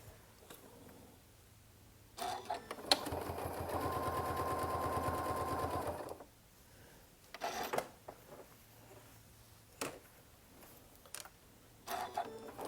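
A sewing machine stitches a cosmetic bag in one sustained whirring burst of about four seconds, surrounded by quieter handling clicks and fabric rustles, close and fairly faint overall.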